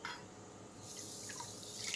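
Water pours from a bowl into a pan for a halwa sugar syrup, a faint, steady trickle that grows slightly louder after a quiet start.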